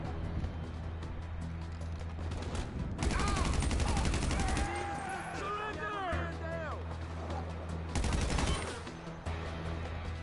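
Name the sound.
special carbine gunfire in GTA video game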